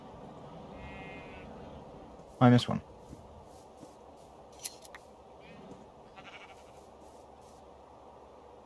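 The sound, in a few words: sheep bleating in a Minecraft modpack (video game)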